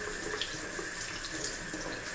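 A kitchen faucet runs steadily as boneless chuck steak is rinsed under it, a close, continuous hiss of splashing water with no pauses and no talking.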